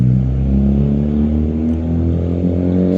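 A car without a muffler roars with a loud, steady, droning engine rumble that holds constant and close throughout.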